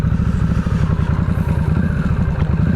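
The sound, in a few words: Harley-Davidson Nightster Special motorcycle making a U-turn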